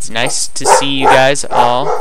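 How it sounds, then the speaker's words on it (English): A pet dog bounces up and barks in a home, a few sharp barks mixed in with someone talking steadily close to the microphone. "that was my dog deciding to bounce up and bark at stuff because people are here"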